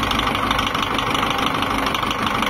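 A tractor engine idling close by, a smooth, steady low mechanical drone with an even, unbroken rumble throughout.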